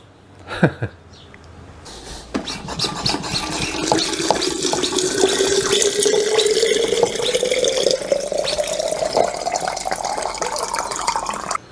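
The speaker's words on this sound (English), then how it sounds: "Now we just add water and my second secret ingredient." Water pours in a steady close stream into a mason jar holding pineapple, after a brief clink, and its gurgling pitch climbs as the jar fills over about ten seconds.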